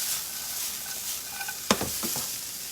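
Fresh egg pasta dropped into a hot pan for rib-eye lo mein, with a sudden sharp sizzle and a few quick clattering stirs over a steady frying hiss.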